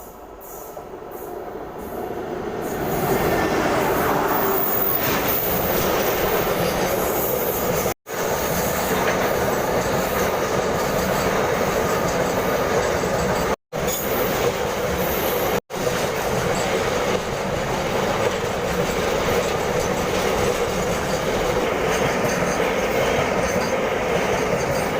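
A train rolls past near a railway bridge in open countryside, a loud steady rumble with clickety-clack of wheels on rails and faint metallic squeal, sustained throughout with brief dropouts.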